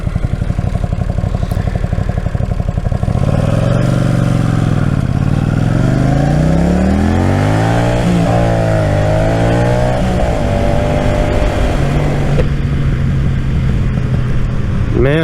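A Honda Silverwing GL500 motorcycle on the road, its engine droning loud and close, rising and falling in pitch through repeated gear changes and accelerations, with wind rushing over it throughout.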